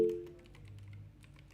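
Keys tapped on a computer keyboard while the words 'logo design' are entered, a quick run of light, close clicks at low volume with a faint hum underneath.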